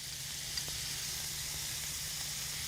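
Minced ginger sizzling in a hot pan, a soft steady hiss of frying held at an even level for a few seconds, heard alone without talk.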